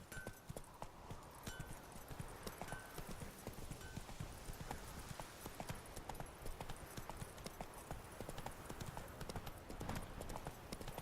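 Horse hooves clip-clop in a steady rhythmic gallop across open ground in The Witcher 3: Wild Hunt on PS4, with the horse's whinny and game ambience mixed in, loud and continuous throughout.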